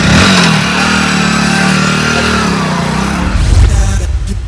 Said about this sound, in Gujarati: હા બાઈક લઈ જ જઉં છું